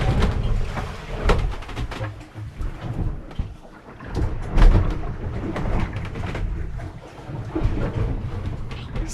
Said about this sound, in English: what it sounds like when we've got waves crashing against the hull